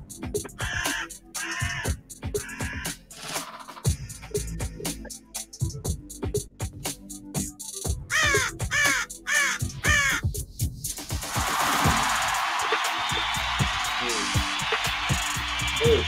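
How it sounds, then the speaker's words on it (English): Crows caw repeatedly in sharp, loud bursts with irregular rhythm, mixed with clicks and other noise, before a steady broad wash of crowd-like noise takes over in the final seconds. "he a real super crow"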